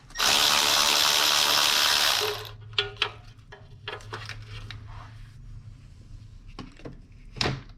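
A ratchet works a 14 mm bolt on the dipstick tube of a 2008 Chrysler Sebring 2.7L: a loud rushing burst, then scattered sharp metallic clicks close by.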